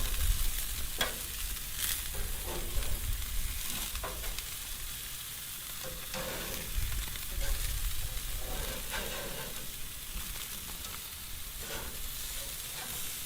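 Food sizzles and fries steadily on the grate of a Monument Denali 405 stainless gas grill, a continuous close hiss with faint scraping and handling noises and no talking.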